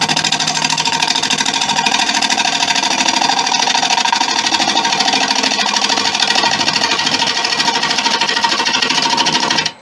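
A wood lathe turns steadily while a wooden core is hollowed out, with a loud, continuous rumbling whir and rough cutting chatter that continue throughout without pause.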